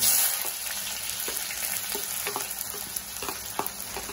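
Onion frying in oil with cumin, mustard seeds and curry leaves makes a loud, dense sizzle and crackle. Occasional stirring taps sound over the steady hiss, with no talking.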